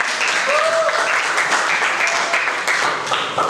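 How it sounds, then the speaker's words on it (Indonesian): Loud, dense applause from a crowd fills the whole stretch, steady clapping without a break. "Tepuk tangan buat kita semua."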